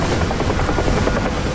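A UH-1 Huey helicopter in the flight simulator DCS gives a steady, loud rotor drone that fills the whole moment without interruption or talk.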